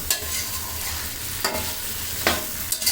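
Chicken with spices sautéing for biryani, a continuous close sizzle punctuated by three sharp scrapes as the pan is stirred, with no voices.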